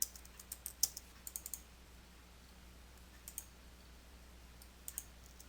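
Light typing on a computer keyboard, heard as scattered quick clicks in small bursts with pauses between them, faint and close against a quiet hum.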